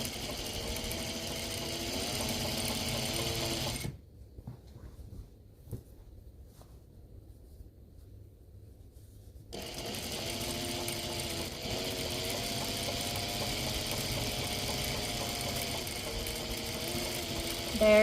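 A sewing machine stitches premade binding onto a quilt with a steady, even motor whir, stopping for several seconds of near silence midway before running again.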